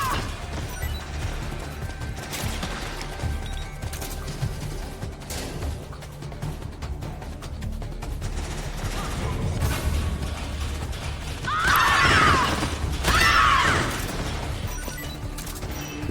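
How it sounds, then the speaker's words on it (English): A stun grenade goes off in a Metal Gear Solid game, with two loud, harsh bursts close together near the end. Clanking and mechanical game sounds play before the blasts. "Stun grenade."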